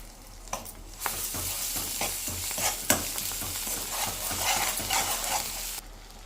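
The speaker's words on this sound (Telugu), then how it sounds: "అన్నీ వేసి బాగా కలిపి ఆయిల్ పైకి తేలేంత వరకు వేయించాలి" A spice paste of onion, sesame, poppy seeds, peanuts, coconut powder, turmeric and ginger-garlic paste fries in oil, a close sizzle with rhythmic scraping and stirring strokes throughout, no talking.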